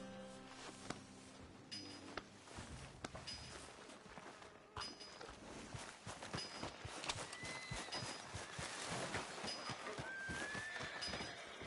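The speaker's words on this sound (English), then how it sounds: "My horse! Am I glad to see you?" A horse in a PS4 video game whinnies and neighs, followed by clip-clopping hooves and faint jingling tack, the steps growing steadier and louder toward the end.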